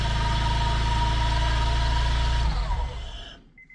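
A rebuilt Honda S2000 time-attack car's engine runs loud and close with a rough, uneven misfire, holding steady for a couple of seconds before cutting out and fading to quiet.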